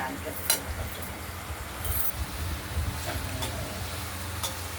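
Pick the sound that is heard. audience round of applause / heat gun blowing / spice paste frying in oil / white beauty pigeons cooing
spice paste frying in oil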